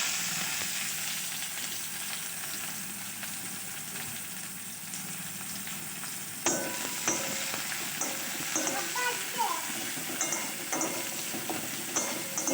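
Onion fries in hot oil with cumin seeds in a home kitchen pan, a continuous close sizzle. Partway through, a stirring spoon scrapes and clatters in an uneven rhythm and the frying grows louder, with no voices.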